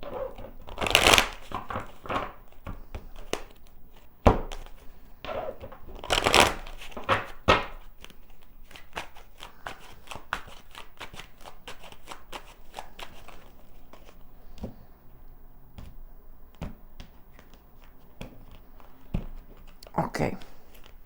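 Tarot cards being shuffled in several quick riffling bursts, close by, with soft tapping and handling sounds between them and occasional talk.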